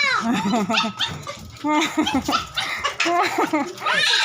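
A dog barks and yips repeatedly near by while people talk and laugh over it.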